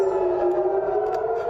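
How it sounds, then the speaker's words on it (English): A steady air raid siren wails continuously at a sustained pitch in Haifa, Israel, loud and unbroken throughout, with no voices over it. "Air raid sirens ring out in Haifa"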